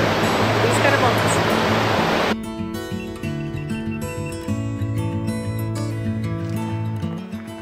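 A waterfall roars as a loud, steady hiss for the first two seconds, then drops abruptly to a softer, more distant rush under tonal background sound.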